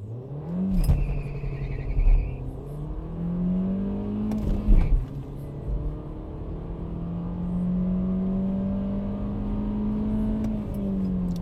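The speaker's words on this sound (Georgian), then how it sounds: "9 და 28-ში აჩქარდა ეს ავტომობილი" A car accelerating hard on a slight downhill during a speed test, engine pitch climbing through several gear changes, loud and close with a brief gear-shift dips and rising whine.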